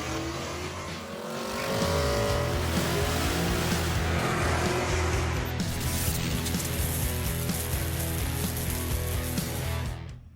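An LS-swapped Chevrolet S10 truck engine fires up and holds a loud, deep, rumbling idle close by, throbbing steadily for several seconds before cutting off abruptly at the end.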